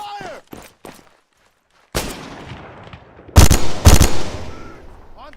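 Heavy gunfire in ArmA 3 comes in a few sharp, loud blasts, with isolated early shots, then a big report and a cluster of booming shots with echoing tails, separated by near-silent gaps.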